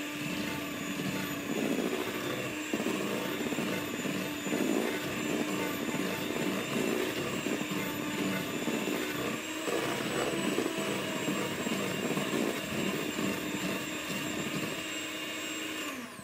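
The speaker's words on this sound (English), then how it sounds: "So we're going to whisk that in, and then we'll decide how much milk we need." Vanilla being whisked into a thick cake batter, a steady, continuous whirring that runs unbroken and fairly loud from start to finish with no talking.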